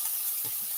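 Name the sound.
hamburger helper sizzling as it sautés in pan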